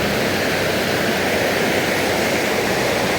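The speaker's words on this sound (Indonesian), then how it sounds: "Nah, ini Kali Cikuluwungnya nih teman-teman." The Cikuluwung river rushes steadily at a river tubing finish area in Pamijahan, with a full dry-season flow. It makes a loud, unbroken roar of flowing water close by.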